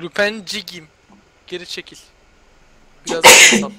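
A single loud sneeze bursts out near the end, after short bits of Turkish talk among players during a CS:GO gaming session, with quiet gaps between.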